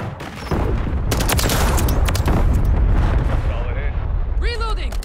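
Dense, sustained gunfire from a Call of Duty hardcore match as players shoot at turrets, loud continuous bursts with booming impacts and overlapping shots, ending with whistling high-pitched effects.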